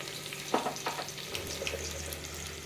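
Ingredients sautéing in a pan for a green pea and meal maker pulao give a soft, steady sizzle broken by a few scraping stirs, heard faintly and alone.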